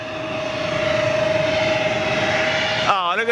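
A small Embraer jet with CFM engines produces a steady engine roar carrying a sustained whine, loud and close, and a voice speaks briefly at the very end.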